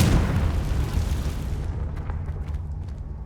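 A Confringo spell explosion in Hogwarts Legacy on PC booms loudly at once, a deep rumbling blast that rolls on and slowly fades, with scattered crackling debris ringing out afterward.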